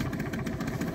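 A 1995 Mercury 4 hp two-stroke outboard motor, mounted on a Zephyr 404 inflatable boat, runs with a steady, fast pulsing buzz, close and continuous for the whole moment.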